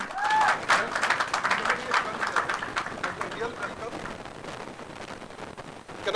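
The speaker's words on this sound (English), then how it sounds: "Can we please have a round of applause for this momentous occasion?" Applause breaks out at a ceremony naming Chef Vikas Khanna global brand ambassador for US Cranberries, with dense clapping and loud crowd noise that is strongest at the start and then tapers slightly, while voices mix in throughout.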